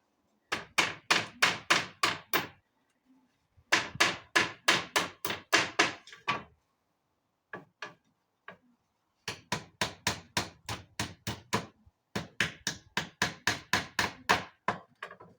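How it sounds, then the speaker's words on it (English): Rapid bursts of sharp hammer strikes on wood, knocking nails out of boards, several runs of quick even blows separated by short pauses, with a few isolated taps in between. "Then they're easy now to pull out with a hammer."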